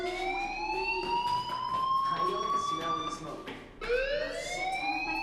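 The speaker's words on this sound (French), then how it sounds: "Hey, do you hear that fire alarm?" A school fire alarm sounds in the video game Life is Strange, a loud wailing electronic tone that sweeps upward steadily, breaks off briefly near the end, then starts climbing again, with faint talk underneath.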